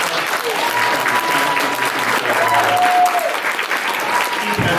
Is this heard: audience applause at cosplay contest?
yes